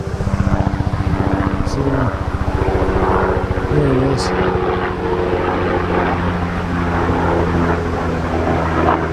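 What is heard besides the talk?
helicopter flying overhead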